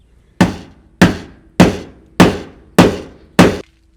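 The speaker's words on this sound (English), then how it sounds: "this is a four pound hammer. You can see it's still tough to move that." A four-pound hammer strikes metal pinch welds six times at an even pace, about every 0.6 seconds. Each blow is a loud, close, sharp clang with a quick decay, and no one talks over it.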